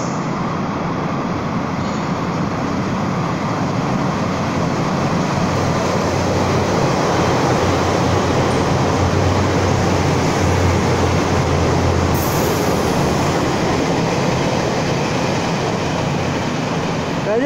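A nine-car DR3000 diesel multiple unit express train runs on Taiwan's South Link line, giving a loud, steady rumble and roar that holds through the whole pass with no voices.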